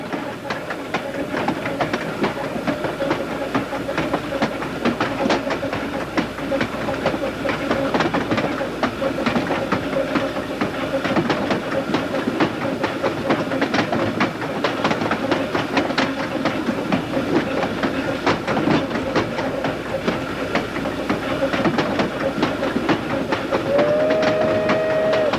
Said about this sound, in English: We ride the rear platform of the caboose as the train travels the dual-gauge iron from Johnson City to Elizabethton.